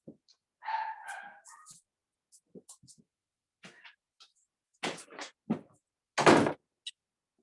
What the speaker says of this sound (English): those dogs are going berserk down there